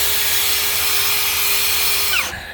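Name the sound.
drill with brush attachment scrubbing carpet mats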